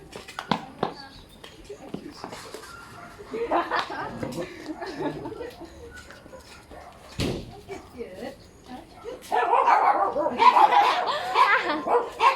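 Dogs bark and yip repeatedly at irregular moments, some close and some farther off, mixed with people talking and a bit of laughter.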